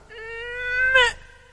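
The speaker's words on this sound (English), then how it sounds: "Are you trying to meow?" A cat gives a single drawn-out meow that rises and swells, then ends in a sharp, louder final burst before fading, heard close and alone.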